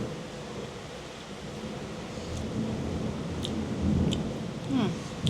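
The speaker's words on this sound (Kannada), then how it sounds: "ಮಳೆ ಬೇರೆ ಬರ್ತಾ ಇದೆ" Steady rain pours outside a home, a dense, continuous wash of noise that swells slightly, with faint voices and a few small clicks over it.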